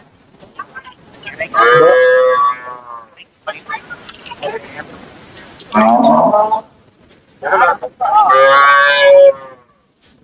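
Cattle at a livestock market give several loud, close moos in separate bursts, with brief pauses between calls and occasional voices in the gaps.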